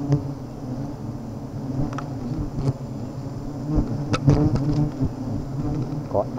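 Wasps buzzing around their nest, a close continuous drone with individual insects flitting past the microphone in brief louder whines.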